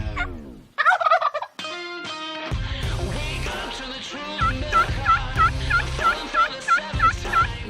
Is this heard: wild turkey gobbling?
yes